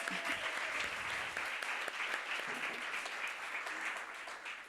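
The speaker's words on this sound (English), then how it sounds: "So applause for that as well." An awards-ceremony audience claps steadily for about five seconds, a dense, even wash of many hands with a faint voice briefly audible underneath.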